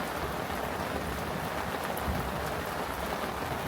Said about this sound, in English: the rain started a little bit heavier